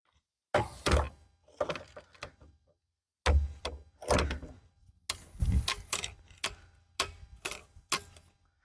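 Plastic AR rifle holders being folded up by hand, giving a series of hollow clicks and thunks in several bursts with short pauses between them, close and moderately loud, with no talking.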